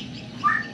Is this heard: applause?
no